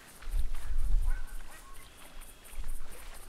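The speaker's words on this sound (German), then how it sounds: "Jetzt höre ich Enten." Ducks calling in the hunting video game theHunter 2016, a few honking quacks at moderate distance with a soft ambient outdoor wash behind them.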